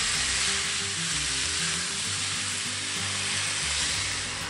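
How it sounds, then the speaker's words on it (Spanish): Beef fries in hot oil over high heat with a loud, continuous sizzle and crackle that runs unbroken from start to finish, close up and with no voices. "En aceite caliente comenzamos a freír la carne a lumbre alta"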